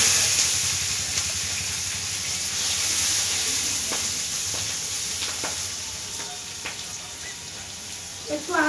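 Tomatoes and green chilies hit a hot pan after fried potato and cauliflower, setting off a steady, close sizzle with hissing steam and occasional scraping stirs.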